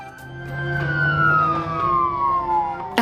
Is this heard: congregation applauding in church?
no